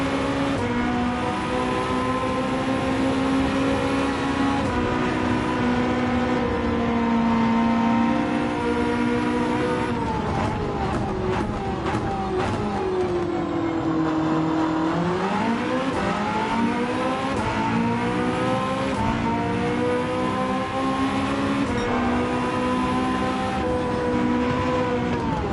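Race car engine in Gran Turismo 7, a loud continuous roar that climbs and drops through gear changes and braking, revving hard throughout a lap with no talk.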